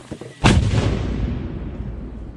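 A mortar fires during U.S. paratrooper training. One loud, close boom rolls into a long fading rumble, and it stands alone without speech.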